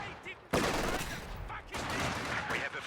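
Machine gun fire in a World War II strategy game match, with loud bursts of rapid gunfire and explosive crackle starting abruptly and continuing under a commentator's voice.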